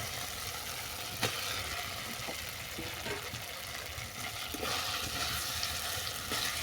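Fried pointed gourd pieces go into a pan of cooked-down yogurt and spice masala, giving a soft, steady sizzle with a few sharp knocks of utensil against pan.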